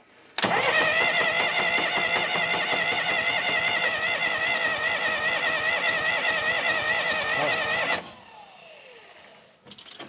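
An old engine left unused for 20 years cranks and is kept spinning in a loud, steady, ringing churn for several seconds, then cuts off abruptly into near silence with faint clatter afterward.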